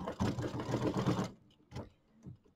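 A home sewing machine stitches a mini quilt, its dense motor whir running steadily for about a second before stopping, followed by two brief, quieter bursts of stitching.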